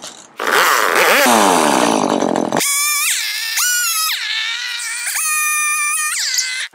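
A chainsaw cuts a miter off a split-rail fence rail, screaming loudly through the wood with the engine pitch rising and falling over several revving bursts.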